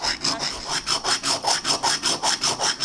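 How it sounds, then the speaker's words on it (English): A small pocket saw rasps back and forth through a glass bottle in quick, steady strokes, each pass a gritty scrape repeating at an even rhythm. "sawing through this bottle."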